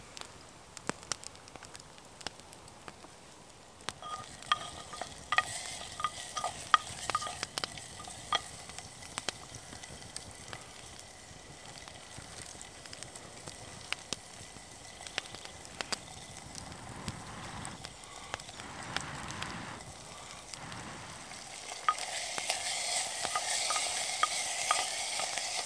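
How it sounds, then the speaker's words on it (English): Onions fry and sizzle in a pan over a damp outdoor campfire in a pine forest, with frequent sharp scraping stirs and crackles throughout, the sizzle growing louder near the end. "But now I put the onions in and hope it will cook"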